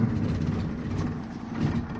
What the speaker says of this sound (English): Let's start her up so you can hear it running.